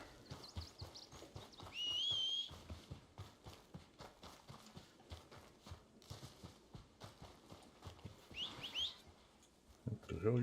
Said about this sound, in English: The horse walking away from me.